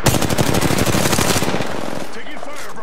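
Rapid automatic gunfire in Apex Legends, a loud, dense burst of shots lasting about a second and a half before fading into softer game sounds.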